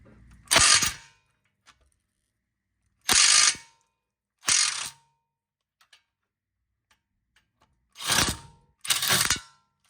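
A ratchet clicks in five separate bursts while loosening a 17mm bolt on a Hyundai or Kia lower ball joint, close and loud, with quiet pauses between strokes and no talk.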